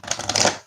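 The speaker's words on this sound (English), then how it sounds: "as I'm shuffling the cards" An oracle card deck is shuffled up close in a quick, brief riffle of papery flicks lasting under a second.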